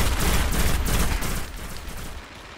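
Rapid automatic gunfire from the video game Destiny, a dense loud burst for over a second that thins into lighter shots and fades, with no talk over it.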